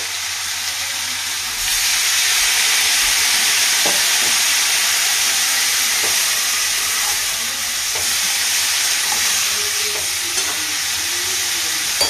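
Water poured into a hot pan of fish-head curry, giving a loud, steady hiss and sizzle that swells after the first second and holds evenly, with a few faint clinks and no speech.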